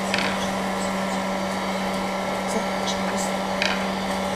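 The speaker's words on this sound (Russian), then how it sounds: "Это строительный фен, с помощью которого мы сейчас будем закручивать листки" A heat gun blows hot air over paper leaves to curl them, giving a loud, steady motor whine and airy roar with a constant hum underneath and no pauses.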